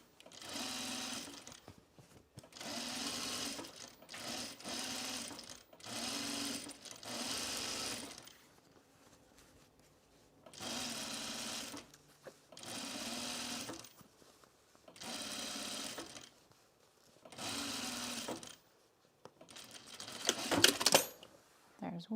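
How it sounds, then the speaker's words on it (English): Sewing machine understitching a self-drafted blouse, running in about eight short bursts of rapid mechanical stitching separated by quiet pauses, fairly near. "Let's just understitch. I haven't understitched in a while."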